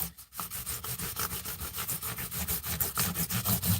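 Fine 2000 grit sandpaper buffing a guitar body, quick regular back-and-forth rubbing strokes, close and steady, running alone without talk.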